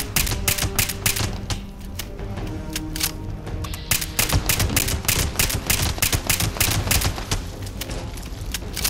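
Rapid automatic gunfire in the video game Fallout 76 rattles in dense, loud bursts of sharp shots, nearly continuous for nine seconds, with booming impacts mixed in.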